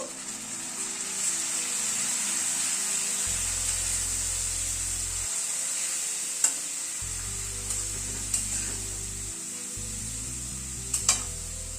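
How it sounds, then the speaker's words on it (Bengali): Ground spices, including Kashmiri red chilli, frying in a pan with a little hot water added, a steady hiss and sizzle with occasional stirring clicks, moderately loud with no voices. "সামান্য পরিমাণ একটু গরম জল অ্যাড করে দিচ্ছি গুঁড়ো মশলাটা কষানোর জন্য"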